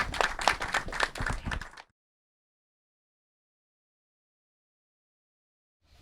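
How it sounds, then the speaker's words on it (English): An audience claps and applauds for about two seconds after an introduction at a screening of films by emerging Black filmmakers, brisk close clapping that cuts off into silence. "can we give them one more round of applause for these amazing"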